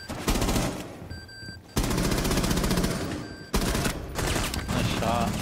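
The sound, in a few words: gunfire in the video game Rainbow Six Siege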